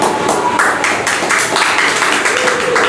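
An audience claps in a steady rhythm at an Independence Day gathering, a loud, even patter of hands that carries on throughout.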